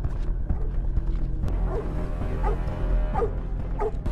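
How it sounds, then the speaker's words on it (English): Police hounds bark near a lake outdoors, with a few sharp barks spaced out over a steady low rumble, moderately close. "the police hounds suddenly start barking near the lake"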